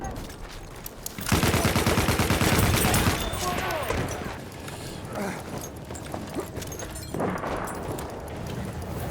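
Gunfire and cannon fire from the video game Battlefield 1: a loud rapid burst of automatic fire near the start, then scattered shots and mechanical clanks, with a player talking over the action.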